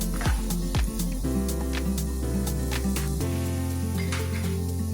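Chopped onions fry in a pan for a Kathiawadi dhokli sabzi, a close steady sizzle with a few sharp clinks and stirring scrapes near the start.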